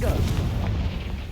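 A Confringo blasting spell exploding in Hogwarts Legacy, a single heavy, booming blast with rumbling low end that fills the short moment.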